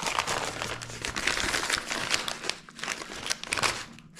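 Crinkling and crumpling of packaging around a diesel fuel injector for an LB7 Duramax 6.6 being unwrapped, close and continuous with dense rustling bursts and brief tearing.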